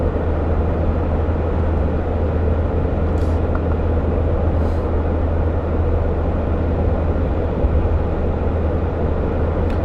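A Dodge Ram 1500 with an 8-speed automatic cruises at highway speed in 8th gear, a steady low engine drone blended with road and wind noise inside the cab, no talking.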